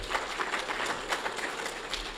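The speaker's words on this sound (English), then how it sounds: "those who are clapping are those who are directors where nothing is coming." Clapping from a crowd of attendees at an official government meeting, a steady broadband patter of many hands sustained for a couple of seconds at moderate distance, with no speech over it.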